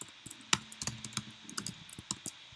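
Rapid, irregular keystrokes clatter on a computer keyboard during a MATLAB plotting lesson, close and fairly clear, with sharp clicks spaced unevenly over a couple of seconds and no talking.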